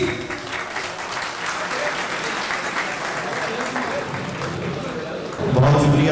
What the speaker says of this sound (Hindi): भरपूर तालियों में इस्तकबाल कीजिए जनाब साहिद बशीर